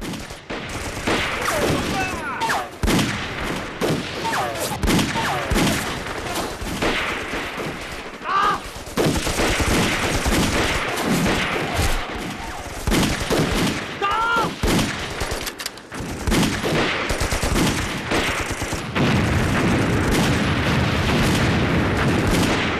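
A battle scene from an anti-Japanese war film: dense gunfire with rapid rifle shots, machine-gun bursts and occasional heavy booms crackles close and loud throughout, with brief shouting voices mixed in.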